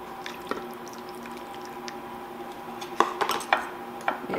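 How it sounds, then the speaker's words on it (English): Thick tomato soup poured over pork chops in a casserole dish gives soft wet squelches and drips. Faint clinks of the dish or utensils come through, louder toward the end. "we're going to pour over our tomato soup"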